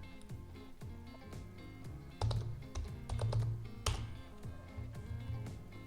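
Typing on a computer keyboard while searching for Chrome WebDriver, a steady run of close, crisp key clicks with a few louder bursts of rapid keystrokes and no voices.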